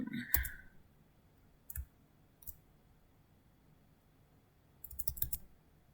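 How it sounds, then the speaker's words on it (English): A computer mouse gives several quick, faint clicks, spaced out, including close paired double clicks near the end, in a quiet room with no talking. "we just need to make sure that we double click if we want to copy it across"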